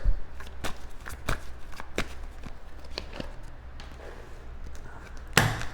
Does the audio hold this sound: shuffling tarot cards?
yes